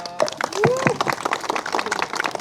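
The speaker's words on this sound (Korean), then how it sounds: "다시 한번 박수 부탁드리겠습니다." An outdoor audience at a trout fishing tournament claps for the winner, a scattered burst of applause with someone talking over the clapping.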